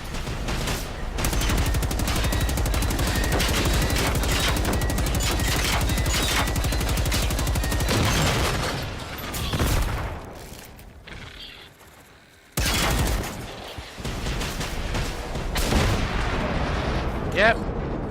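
Rockets and heavy weapons fire in the video game Generation Zero, rapid booming volleys that pound steadily, then drop off into a quieter lull before the barrage resumes.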